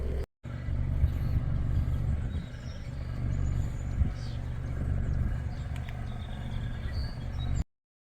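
Car driving along a road, heard from inside as a steady low engine and road rumble with faint passing noises, continuous at moderate level before cutting off abruptly.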